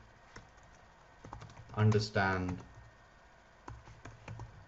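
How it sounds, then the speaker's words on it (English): Keystrokes on a computer keyboard tap out in sparse, light clicks across the clip, close and quiet, while a person speaks briefly in the middle. "you can start typing something"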